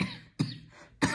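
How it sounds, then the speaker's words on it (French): A person coughs twice in short sharp bursts, close to the microphone, with a quiet gap between coughs. "excusez-moi, je tousse"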